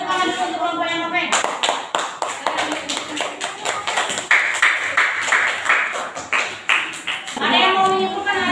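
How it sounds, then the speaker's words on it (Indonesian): Students in a classroom clap for a group, giving a series of sharp, fairly close claps with a light ringing quality, framed by a teacher's voice before and after. "Silakan berikan tepuk tangan dulu untuk kelompok yang apa?"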